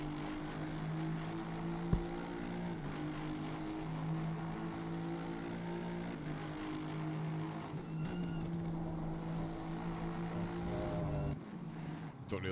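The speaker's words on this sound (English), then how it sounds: "That Aston Martin engine does sound very good." Aston Martin GT3 race car engine at Suzuka during an eight-hour endurance race, a steady, buzzing drone that rises and falls with gear changes, with talk over it.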